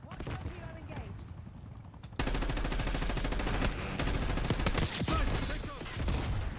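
Heavy automatic gunfire from a Watchdog Hilo gunship in the video game Black Ops 6 kicks in abruptly and pounds on as a dense, loud, continuous barrage with brief dips, over a quieter game backdrop.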